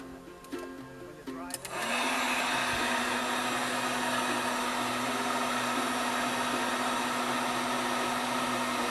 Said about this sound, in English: I'm going to heat it back up with the heat gun.